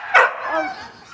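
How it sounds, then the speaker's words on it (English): A dog gives one sharp, close bark followed by a brief whining trail, loud against a quiet indoor background. "What's that dog doing over there?"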